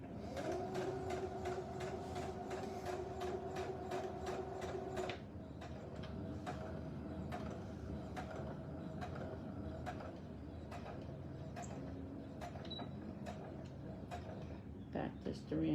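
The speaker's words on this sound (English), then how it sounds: "we're just gonna do a whole nother pivot stitch when we get there" A sewing machine stitches a fabric face mask, running in a fast, regular mechanical clatter of needle strokes that changes pace partway through, then slows into separate ticks, heard close and quiet with a faint voice present.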